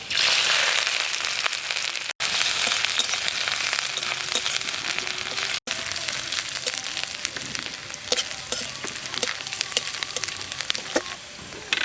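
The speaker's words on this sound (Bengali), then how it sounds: "আদা আর রসুন ভাজা হয়ে গেছে" Chopped garlic and ginger frying in oil, a continuous dense crackling sizzle with scattered pops, close and steady throughout.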